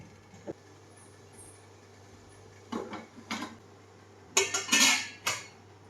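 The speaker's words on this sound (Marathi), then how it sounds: "आता ना ही रिंग टाकून घेते ह्याच्यावरती ना कुकरचा डबा ठेवायचा आहे" A metal ring is set inside a pressure cooker on a gas stove and a dhokla tin placed on it, producing scattered metallic clinks and clanks that build to a louder cluster near the end, no voices.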